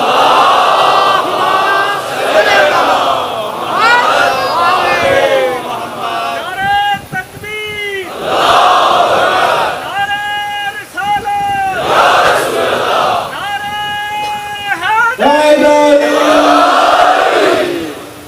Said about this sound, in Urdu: صلوات پڑھیں محمد و آل محمد